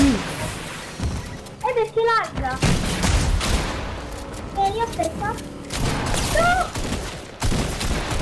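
Gunfire in the Fortnite video game crackles in rapid bursts, loud and close, mixed with game effects, while a young voice talks excitedly over the shots.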